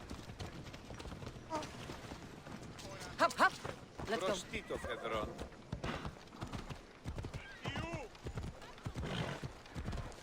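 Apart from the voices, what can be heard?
horse galloping in video game Assassin's Creed Odyssey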